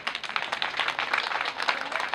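An audience claps at a university graduation ceremony, a steady wash of applause throughout with no voices over it.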